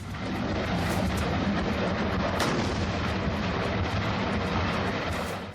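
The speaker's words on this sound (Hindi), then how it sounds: "जमीन में बोफोर्स के गोले तो आसमान में लड़ाकू विमानों ने बम बरसाने शुरू कर दिए।" Bofors artillery guns fire in the 1999 Kargil war as a loud, continuous roar of gunfire and booms with no break in the din and no voices.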